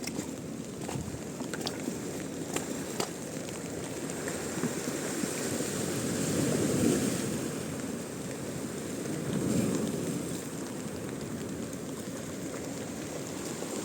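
Waves breaking on a shore where fish are being caught, with water running high, a steady broadband wash swelling into two louder surges midway through, alone without talk.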